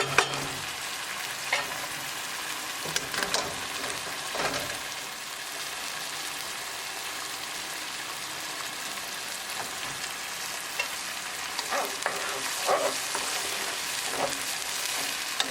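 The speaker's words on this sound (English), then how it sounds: "Keep stirring so it won't get burned." Onion fries in a pan for a curry base, giving a steady sizzle while a utensil stirs it in repeated scraping strokes. Everything sounds close and fairly quiet.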